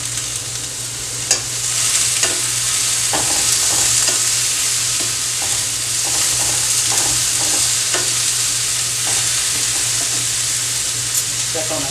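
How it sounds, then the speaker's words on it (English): A sauce seasoned with black pepper boils and bubbles in a pan with a steady sizzle, while a utensil stirs it with soft, irregular scraping taps. "We're going to let this boil and continue to ensure that we stir it because we don't want it to burn."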